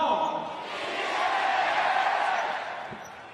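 Crowd at a 2019 Basketball World Cup game between China and New Zealand roaring in response to the arena announcer, a broad cheer that swells and then slowly fades, with no clear speech on top.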